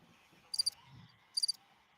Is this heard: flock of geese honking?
no